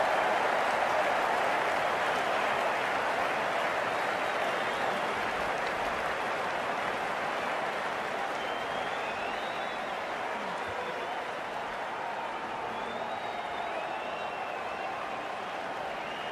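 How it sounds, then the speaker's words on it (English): A cricket stadium crowd at an IPL match between KKR and DC keeps up a broad, steady roar of cheering and applause throughout, with a commentator's voice faintly mixed in. "It's hard not to get caught up in this excitement. The crowd are loving this."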